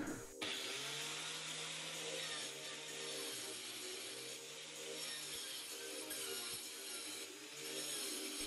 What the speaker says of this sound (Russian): Теперь болгаркой с установленным диском по дереву я делаю пропил.